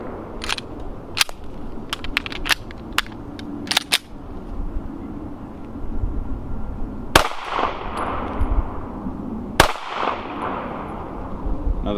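A Taurus G3C pistol fires S&B rounds outdoors, sharp close reports spaced irregularly, several in quick succession early on and then two louder isolated shots later, each followed by a brief ringing tail.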